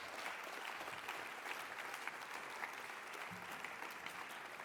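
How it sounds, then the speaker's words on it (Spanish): An audience gives steady, even applause at a creativity forum talk, a dense wash of clapping heard at some distance without any voices. "Un aplauso"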